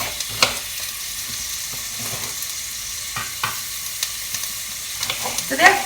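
Chopped vegetables frying in a pan while being cooked for a gnocchi tomato bake, a continuous close hiss with scattered stirring clicks and scrapes, no voices.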